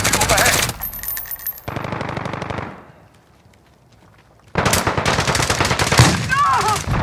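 Automatic gunfire in the Call of Duty: Modern Warfare video game, loud dense bursts at the start and again near the end with a quieter gap between, a voice briefly heard among the shots.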